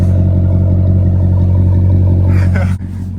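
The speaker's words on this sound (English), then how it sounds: "this is my 2015 SRT, little POV drive" A 2015 SRT Jeep engine drones steadily during a night drive, a loud low hum with cabin rumble throughout and a brief clatter near the end.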